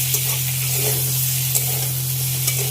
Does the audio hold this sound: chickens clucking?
no